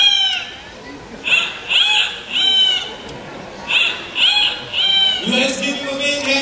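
A person at a Singapore bird park show imitates a noisy rooster, giving a series of loud, strained crowing calls in quick succession. The calls end with a lower drawn-out vocal sound, heard clearly over a quiet background.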